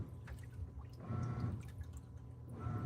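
Water draining from a dishwasher during its pre-drain cycle: a steady low pump hum with trickling, dripping water that swells louder midway and again near the end, with no voices.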